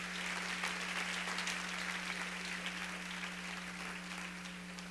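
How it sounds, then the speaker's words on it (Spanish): A church congregation applauds steadily throughout, a dense wash of many hands clapping with no break, accompanied by a constant low electrical hum. "Aplaude al Señor,"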